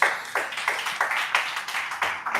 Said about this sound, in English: Let's clap for this one